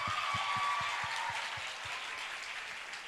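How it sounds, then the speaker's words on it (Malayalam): Audience applause after a dance performance at a New Year church program, a broad steady wash of many hands clapping that stays fairly even and slowly tapers, with no talking over it. "എന്നാ നമുക്ക് നല്ലൊരു ക്ലാപ്പ് കൊടുക്കാം"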